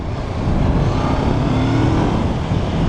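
A learner-legal naked motorcycle's engine revs under throttle, a loud continuous drone that swells after the first half-second and holds steady, with no talking.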